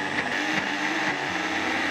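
Blender grinding garlic and shallots with oil, a steady, loud continuous whirring motor drone with a slight pitch shift partway through, close and alone.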